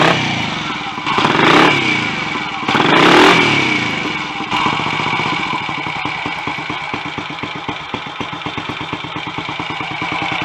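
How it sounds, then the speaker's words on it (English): A Royal Enfield 250 GT motorcycle engine that still runs a bit tight, with advanced ignition timing, is blipped twice with throttle revs and then settles into a steady, rapid close-up idle. "The engine still sounds a bit tight"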